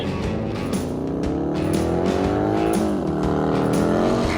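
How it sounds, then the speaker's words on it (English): A loud 2018 Harley-Davidson Fat Bob engine roars steadily on a racetrack, its pitch climbing as it races closer, with a sharp rise and fall as it speeds past. "his 2018 Harley-Davidson is about to fly past the tent"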